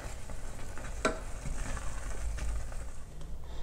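Apples gently simmering into a chunky compote in a saucepan over lowered heat, giving a steady soft bubbling sizzle throughout with one brief sharper pop near the start.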